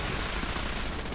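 Rapid gunfire in the video game Fallout 4, a dense burst of loud overlapping shots that fills the whole brief moment with no pause.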